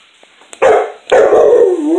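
A pet dog gives two loud, close barks in quick succession, the second drawn out into a long howling yowl that slides downward in pitch.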